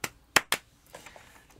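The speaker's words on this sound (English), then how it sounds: "Big snaps, big claps." Three sharp, close hand claps or finger snaps in quick succession, followed by a few softer, fainter taps.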